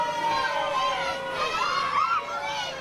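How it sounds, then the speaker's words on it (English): Wrestling crowd at a UKPW title match jeering a wrestler, a dense mass of shouting voices with higher yells and whistles rising and falling throughout, close and loud. "Crowd here letting Alf Edwards know what they think of him"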